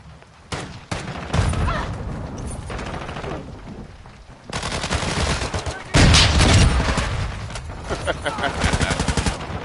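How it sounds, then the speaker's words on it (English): Modern Warfare 2 video game combat, with bursts of gunfire and a grenade blast. The shots come in sharp clusters and then in dense, loud volleys. "Target sighted! Grenade out!"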